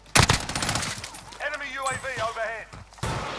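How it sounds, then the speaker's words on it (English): Call of Duty Warzone gunfire bursts out sharply at the start, a quick loud volley, then a voice talks over quieter game sounds before another shot hits near the end. "Taking fire over here."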